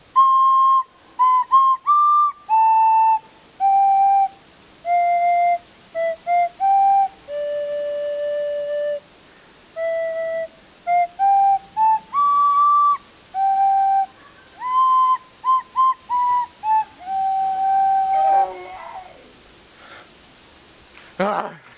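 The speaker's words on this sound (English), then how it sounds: "he finds a flute, Salamander Man's flute. He plays it" Salamander Man's flute playing a simple wavering melody of short breathy notes with gaps between phrases, fairly close and alone, ending with a brief noisy burst.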